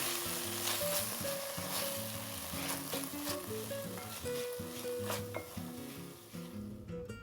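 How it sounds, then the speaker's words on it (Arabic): Tomato sauce sizzles and fries in a pot for an Indian butter chicken soup while it is stirred, producing a steady close crackle with soft scraping and clinks from the stirring, and no talk over it. "وأقلب الصلصة شوية أيضا."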